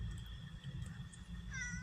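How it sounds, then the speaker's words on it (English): A cat meows near the end, a rising, tonal call after a stretch of quiet room noise with low rumble. "Want to see my cat, Boat?"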